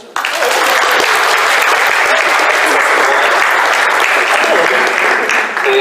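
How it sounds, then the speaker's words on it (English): A large audience gives a sustained round of applause, loud and even from start to finish with no break in the dense clapping. "Round of applause, ladies and gentlemen."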